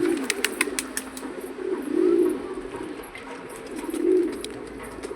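Black pigeons cooing in a loft, with repeated low throaty coos rising and fading in several waves, close by, plus faint wing flutters and light ticks.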